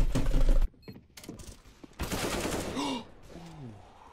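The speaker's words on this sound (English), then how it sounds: "he also has rotary machine guns" Rotary machine guns fire in a video game as rapid bursts of gunfire, loud at first, then breaking into shorter rattles with whirring mechanical tones and a voice partly over them.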